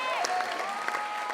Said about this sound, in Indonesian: Ya, tepuk tangan sekali lagi untuk Rian.